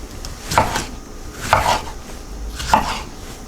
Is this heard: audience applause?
no